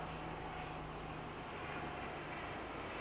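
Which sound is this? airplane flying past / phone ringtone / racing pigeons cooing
airplane flying past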